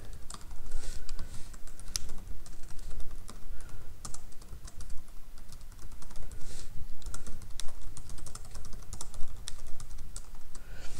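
Steady typing on a computer keyboard while writing Solidity smart-contract code, with dense, irregular clicking keystrokes close up and continuous throughout, with no talking.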